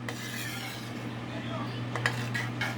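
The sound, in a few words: stirring warm homemade Alfredo sauce in a pot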